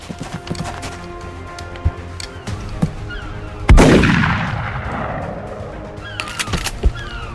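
A shotgun blast fired on overwatch in the video game XCOM Enemy Within: one loud, close report with a long rumbling tail, set among quieter game clicks and ambient effects.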